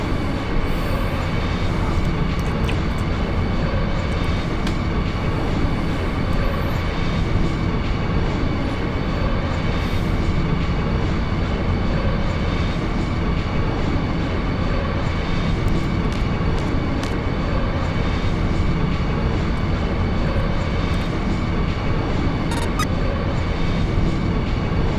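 A train rolls along in the video game Final Fantasy VIII, a steady, dense rumbling roar that holds even and unbroken throughout, with no speech over it.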